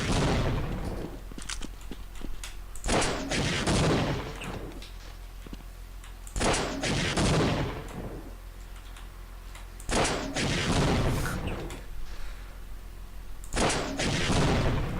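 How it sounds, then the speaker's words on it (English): Gunfire aimed at a vent in a video game, loud repeated bursts of shots every few seconds with quieter gaps in between. "I don't suppose that vent just breaks if I shoot it enough."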